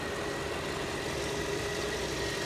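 A Mercedes W220 sedan engine idles at a steady, even hum. The sound is continuous and moderately loud, with no talking.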